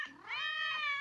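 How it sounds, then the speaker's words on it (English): A cat gives a single drawn-out, rising and falling meow, close and clear, in a cartoon scene with no talk over it. "What are those cats doing behind you?"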